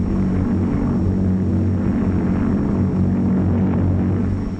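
A Lodestar airplane carrying a full load of 17,500 pounds speeds down the runway for takeoff, its engines producing a loud, steady, continuous roar with no pauses.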